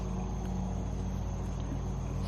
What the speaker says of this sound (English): My aunt told me that they are frogs,